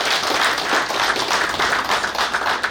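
Audience applause at a naval warfare college graduation ceremony, a steady, dense wash of many hands clapping that holds evenly throughout.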